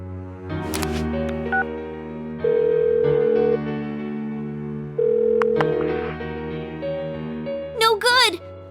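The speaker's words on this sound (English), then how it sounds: "Give her another call." Electronic phone ringing in the Persona 4 Golden video game, two sustained ring tones separated by a pause, laid over game music with brief character voice sounds.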